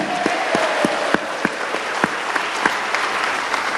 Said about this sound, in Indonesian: Sekarang Bapak Ibu, boleh tepuk tangan dulu yang meriah Bapak Ibu.